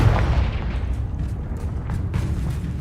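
Confringo fire-blast spell explosion in Hogwarts Legacy, a deep rumbling boom with a bright burst at the start and a lingering low roar, loud and close, followed by scattered smaller crackles.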